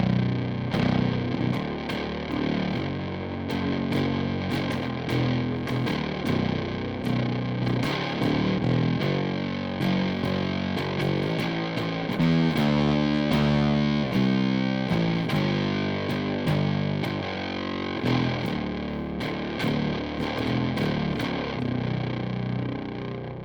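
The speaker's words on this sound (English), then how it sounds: "we can actually get our dry bass signal through the fuzz, but still get that distortion." Heavily distorted bass guitar played through a Super Siberian Fuzz pedal, with a fuzzy, saturated tone, plays a continuous riff, loud and up front with no other sounds.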